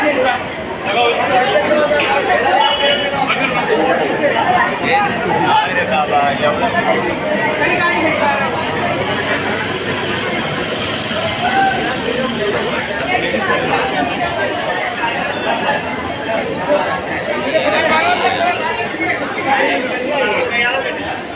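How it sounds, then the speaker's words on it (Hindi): Dense crowd at Haji Ali Dargah in Mumbai, a thick continuous babble of many voices close by and all around, steady and loud throughout. "भाई बहुत भीड़ है इधर।"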